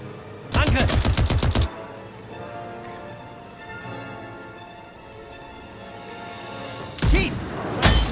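Automatic weapons rattle in rapid bursts in Classified: France '44, a World War II tactical game. One loud burst comes early and another near the end, with a quieter rumbling gap between.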